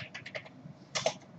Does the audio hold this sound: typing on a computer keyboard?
yes